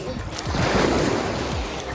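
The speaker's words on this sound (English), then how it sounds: "Now we're at the beach." Surf washing onto an island beach where the water is very cold, a steady broadband rush of breaking waves mixed with gusty wind buffeting the microphone, continuous for two seconds and fairly loud.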